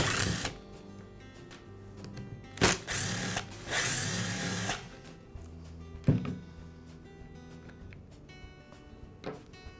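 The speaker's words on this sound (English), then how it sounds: "I'll split the 2 halves by removing those screws." Screws are being backed out of the plastic handle assembly of a Ryobi string trimmer, giving quiet ratcheting and whirring bursts, a few longer runs separated by sharp clicks and taps, with no talking.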